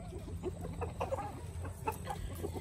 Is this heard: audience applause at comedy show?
no